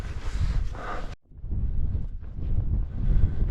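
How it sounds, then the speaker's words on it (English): Strong wind on an open fell top in the Lake District hills buffeting the microphone with a low rumbling roar, cutting out briefly before gusting back in. "we just get into a bit of a strongish breeze there"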